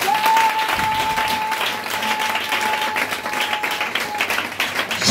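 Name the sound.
congregation applauding and cheering for God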